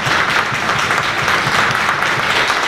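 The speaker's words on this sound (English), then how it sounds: "If I could ask for a round of applause, I would." Dense, loud clapping from an audience at a community information meeting in Quesnel, a continuous wash of applause with no voices over it.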